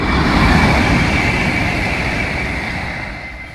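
A loud, steady rumble of a train rolling past close by on the Valencia–Tarragona line in Spain, broadband roar with a faint tonal whine, easing slightly toward the end.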